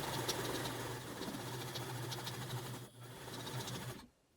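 A sewing machine runs steadily while chain piecing denim quilt pieces at a quarter-inch seam, a close, even hum with a soft rapid needle patter, dipping briefly near the end before stopping.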